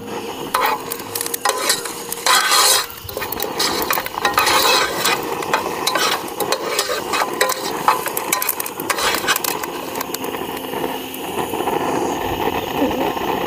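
Curry leaves and a large garlic clove fry in a pan, a loud close sizzle broken by constant scraping and clattering stirring, with no voices.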